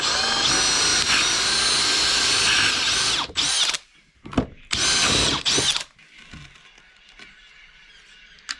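A power drill whirs steadily for a few seconds while drilling holes in possum leather, then runs in several short bursts before stopping, leaving faint clicks and handling noises.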